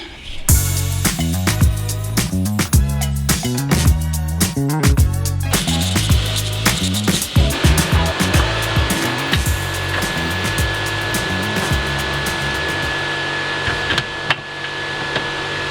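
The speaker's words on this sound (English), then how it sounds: "Back to the lathe." Metal lathe turning a car part for a widebody RWB Porsche 964 Turbo, a loud steady whirring machine drone with rhythmic cutting and motor pulsing throughout, no voices.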